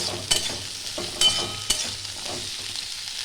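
Drumsticks and potato pieces frying in a pan for a Bengali sajne data aloo posto dish, a steady sizzle broken by several sharp scraping stirs near the start and middle, close and moderately loud with no talk.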